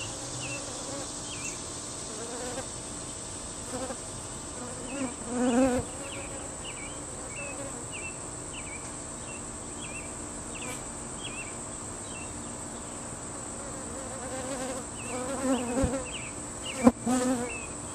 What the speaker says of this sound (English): Now these bees that are on this comb, we'll clean that out. Now that it's removed from the hive,